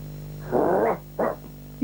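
A dog gives two short, muffled barks close by, the first longer and rough, the second a clipped yelp, against a quiet background.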